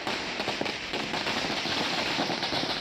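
Firecrackers set off by BJP party workers in Borivali, Mumbai, celebrating an arrest, crackle as a dense, continuous run of sharp pops heard from a moderate distance.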